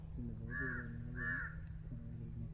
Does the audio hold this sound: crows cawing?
yes